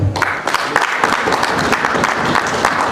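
A crowd breaks into steady, loud applause, many hands clapping together for a few seconds.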